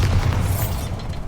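A Bombarda explosion spell in Hogwarts Legacy, a loud, sustained booming rumble with a heavy low end, filling the whole brief moment without any voices.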